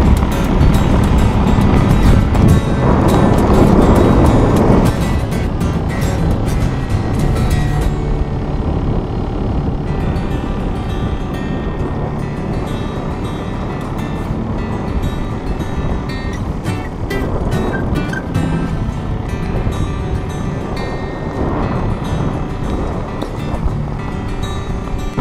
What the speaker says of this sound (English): Really reliable motor.